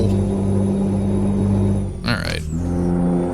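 A heavy truck's diesel engine in Euro Truck Simulator 2 drones steadily with a deep low rumble, dips briefly during a gear change, then settles back into a constant cruising hum.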